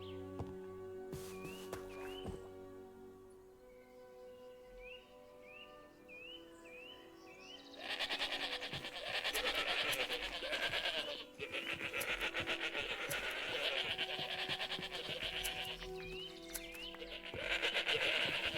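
Many sheep bleating at once in modded Minecraft, overlapping cries growing louder partway through, with game music tones and bird chirps in the background.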